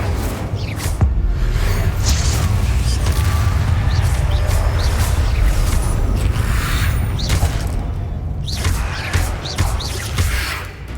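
Incendio fire spell cast in Hogwarts Legacy, a loud burst of whooshing flame and crackling impacts over dense, continuous combat rumble with repeated swishes of other spells.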